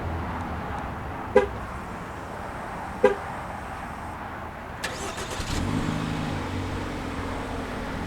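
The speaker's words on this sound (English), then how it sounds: "Remote start is also available in a package for most trims." A 2018 Jeep Compass started by remote: two short horn chirps confirm the command, then after a pause the engine cranks and catches into a steady low idle, heard from nearby outdoors.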